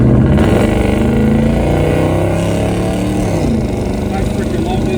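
A 1985 Chevrolet K10 pickup truck engine revving hard and loud up close, its deep rumbling pitch climbing steadily and then dropping back as the throttle eases off.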